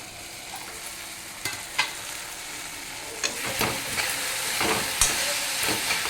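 Methi (fenugreek) dal simmering covered in a pan: a steady low bubbling hiss with a few soft clinks and pops, close and moderately quiet, no voices.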